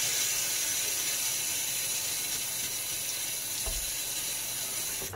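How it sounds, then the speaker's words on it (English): Tap water runs steadily into a sink, a constant broad rush that carries on alone for several seconds while a face is wetted before a shave. "let me go ahead and wet my face"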